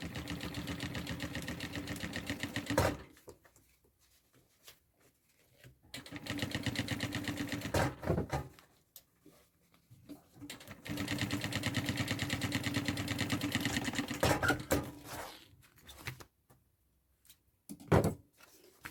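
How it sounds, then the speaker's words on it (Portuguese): A sewing machine topstitches a bag in several bursts of steady rapid stitching lasting a few seconds each, separated by quiet pauses and small handling knocks. "E vou dar outro pesponto aqui, pro lado do principal"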